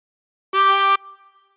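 A single blown note on a 24-hole tremolo harmonica at hole 13, bright and reedy with a wavering shimmer, held under half a second before a soft ringing tail fades out.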